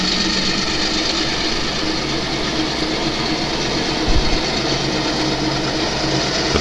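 GP38 and GP38-2 diesel locomotives with a caboose rumble steadily nearby in a rail yard, a dense continuous engine drone with a brief low thump partway through.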